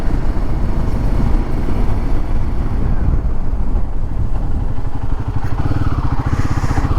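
A Royal Enfield Himalayan 450 motorcycle rides through hairpin bends on a mountain road, its engine a loud, close, steady thrum with wind rushing over the microphone and a change in engine note near the end.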